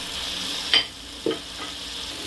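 Chopped tomato is stirred into chicken curry frying in a pan. A soft, steady sizzle runs underneath, broken by two sharp scrapes of a spoon against the pan.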